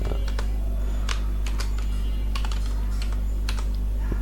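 HTML code being typed on a computer keyboard, with scattered, irregular key clicks close to the microphone over a steady low hum.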